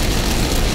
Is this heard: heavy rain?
yes